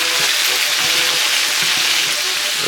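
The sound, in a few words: meat frying and being stirred in a pan for Sicilian meat sauce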